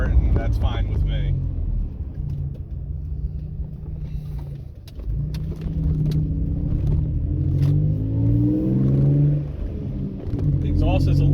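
Low, steady exhaust drone inside a Toyota Tacoma X-Runner while driving, a constant rumble that swells and eases slightly, with someone talking over it throughout.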